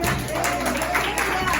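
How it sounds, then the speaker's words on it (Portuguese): A congregation at an evening church service applauds continuously in a dense, steady wash, with a voice carrying over the clapping throughout. "aplauda Jesus nessa noite"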